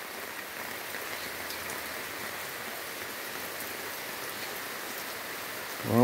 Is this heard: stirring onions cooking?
no